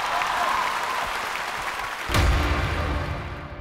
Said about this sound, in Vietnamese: Một tràng pháo tay dành cho bạn ấy nào.